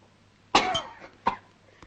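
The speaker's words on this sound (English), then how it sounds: "Cough it up." A person coughs after swallowing a drop of liquor taken as medicine: one harsh close cough followed by a second, shorter cough and a faint trailing catch of breath.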